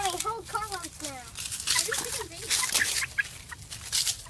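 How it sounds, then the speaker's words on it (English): Chicken clucking in a series of short, wavering calls close by, mixed with people talking and a voice around it. "Run, little chicken, run."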